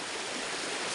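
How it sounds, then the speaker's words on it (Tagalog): Water from a mountain stream rushes steadily nearby, a brief, unbroken broadband hiss and gurgle with no voices. "tingnan nyo ang tubig ay galing sa mountain."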